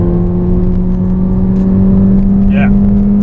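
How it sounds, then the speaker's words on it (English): Interior of a 2016 Ford Fiesta ST pulling in third gear: a steady, droning engine note with a firm low hum that holds evenly throughout and fills the cabin, close and fairly loud. "it pulls all the way up through the revs"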